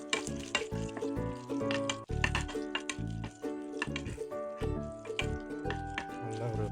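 Garlic frying in a pan for a drumstick stir-fry gives a dense, continuous sizzle with crackles and stirring scrapes throughout, close up, with a faint voice now and then.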